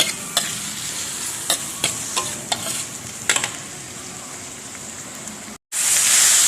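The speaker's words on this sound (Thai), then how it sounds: "เราจะผัดหมึกให้สุกก่อนค่ะ" Squid stir-frying in a hot pan for a salted egg yolk dish: a steady, close sizzle broken by repeated scraping strokes, then a brief gap and a louder hiss near the end.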